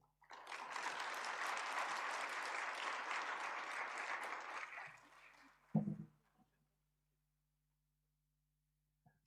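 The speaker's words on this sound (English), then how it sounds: "A round of applause for our keynote speaker, Professor Hakabin." Conference audience applauding a keynote speaker at an air quality event, a full burst of clapping lasting about five seconds, then a thump and near silence.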